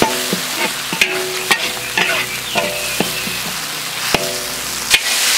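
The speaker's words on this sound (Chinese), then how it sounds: "稍微炒一下" Stir-frying chopped chili and ginger in a wok: a constant sizzle broken by repeated clanks and scrapes of a spatula against the metal, roughly once a second.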